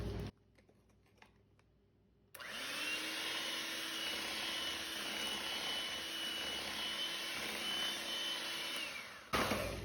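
Cake rusk batter being mixed after adding baking powder and food color: a steady, close whirring drone starts after a quiet moment and runs evenly for about seven seconds before stopping.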